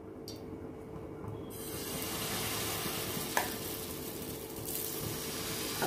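Rava batter for uttapam frying on a hot griddle oiled with refined oil, making a steady, soft hiss of sizzling that holds at an even level throughout, with one small tap.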